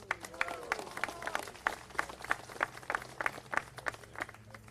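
Faint, scattered clapping from a small outdoor audience at a Native American monument dedication, sparse individual claps rather than a full roar, heard at a distance under background noise.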